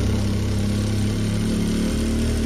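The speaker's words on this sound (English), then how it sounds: "I'm just gonna sew across" A Juki sewing machine stitches across fabric while an Uluaq bag is being sewn, a steady, close motor hum with an even, fast needle rhythm and no talking.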